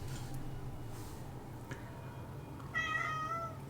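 One short, clear meow from a nearby cat near the end, rising over a steady low room hum after several seconds of near silence.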